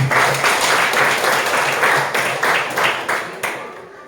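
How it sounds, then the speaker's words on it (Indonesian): Students in a classroom applaud during a coding and AI lesson, a brisk burst of clapping that thins and fades toward the end. "Oke, tepuk tangan."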